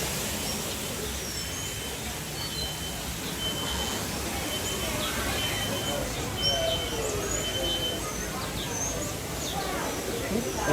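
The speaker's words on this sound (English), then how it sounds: "These are the actual birds inside our aviary this morning." Many small birds chirping and tweeting at once in a busy, layered chorus inside an aviary at Disney's Animal Kingdom, with occasional cooing and a steady background hum.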